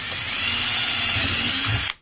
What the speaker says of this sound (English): you're going to drill 2 holes in the side of your hull with a 3/16 drill bit